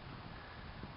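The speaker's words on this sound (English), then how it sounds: "That wind, woo!" Wind buffets a small Midland HD action camera's microphone during a bumpy flight of a Bixler model plane, a loud, continuous roaring rumble that fills the whole second with no other sound.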